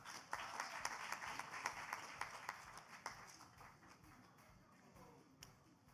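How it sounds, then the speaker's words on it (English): Graduates at a Brooklyn Democracy Academy high school graduation ceremony get a round of applause from the crowd, which starts fairly strong with sharp individual claps, then thins and fades gradually over several seconds. "Let's give them a round of applause, y'all."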